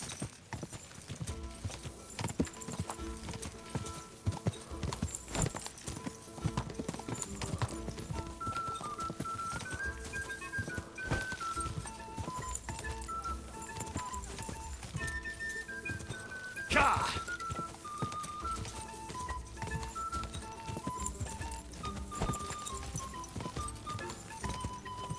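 A horse galloping in a race in the video game Kingdom Come: Deliverance II, with fast, continuous hoofbeats throughout, a brief whinny, music playing underneath, and someone talking over the hooves.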